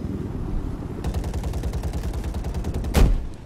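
Sustained rapid gunfire aimed at a helicopter in a video game, a fast run of shots followed by one heavier, louder blast before it stops.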